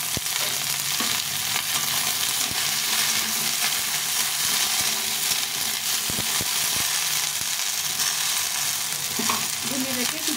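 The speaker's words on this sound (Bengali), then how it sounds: "ভেন্ডিটাকে কিছুক্ষণ ভেজে নিতে হবে, একটু ভাজা ভাজা হয়ে গেছে।" Okra (bhindi) with onions frying in oil, a continuous close sizzle broken by occasional scraping clicks of stirring, with no voices over it.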